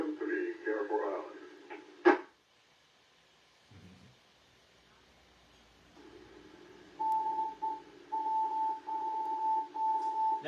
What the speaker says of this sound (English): That's the repeater ID in Morse code.